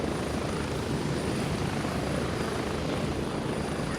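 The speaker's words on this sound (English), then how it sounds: "Helicopter rides are loud." Helicopter ride in the military shooter game Gray Zone Warfare, a loud, constant rotor and engine roar heard from inside the cabin, dense and unbroken throughout with no voices.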